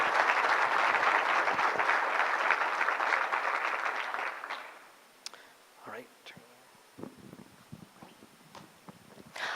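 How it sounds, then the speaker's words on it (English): An audience at a community meeting on school start times applauds a student panel, with loud, sustained clapping that fades out after about four seconds. Scattered soft rustles and faint murmurs follow in a quiet room. "Let's give them a hand just for being a great,"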